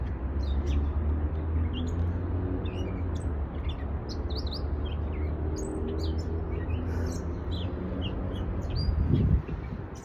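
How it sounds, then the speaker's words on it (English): Birds chirp and tweet in scattered short calls over a steady low outdoor rumble, moderately distant, continuing throughout without any talking. "can you hear the birds chirping?"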